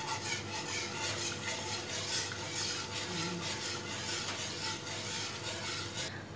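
A mixture of corn flour and water for maja blanca is stirred in a container, giving soft, repetitive swishing and scraping strokes at a quiet, even level, with no voices.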